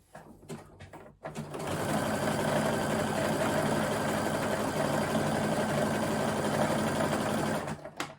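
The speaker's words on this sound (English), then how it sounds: "I'm going to come all the way down the fabric, making sure these are really well lined up as I go." A sewing machine runs steadily along a jersey knit fabric seam, a close, continuous mechanical whir lasting several seconds after a brief start, then stopping.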